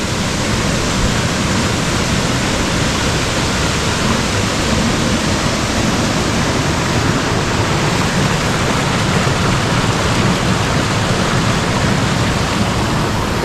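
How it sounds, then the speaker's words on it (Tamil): Continuous rushing of flowing water, loud and close, with a steady, dense texture and no voices. "தண்ணி போகிற சவுண்டு வந்து அதிகமாக இருக்குது"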